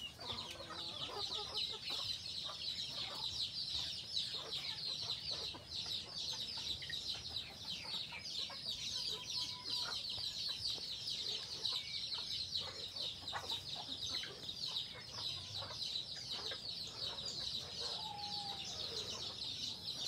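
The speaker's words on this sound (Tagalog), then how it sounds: "Yung mga sisiw." Farm chicks peep and cheep in a continuous high-pitched chorus, with occasional clucks from hens nearby, steady and moderately faint throughout.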